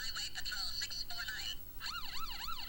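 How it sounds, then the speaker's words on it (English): A talking toy police car plays chirpy, high-pitched electronic voice warnings, then a looping wailing siren sweeps up and down, close and bright. "This talking police car delivers its warnings in a voice very reminiscent of the Munchkins."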